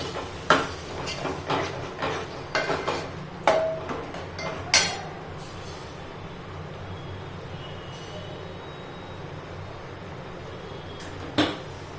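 Cooked toor dal, pressure-cooked with turmeric and salt, is mixed in a pot for rasam, giving a handful of sharp clinks and taps in the first five seconds, then near quiet with one last knock near the end.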